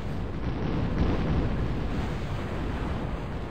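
Mines blowing up under Ravager units in the Zero-K strategy game, a dense continuous rumble of overlapping low explosions, loud and sustained, no voices.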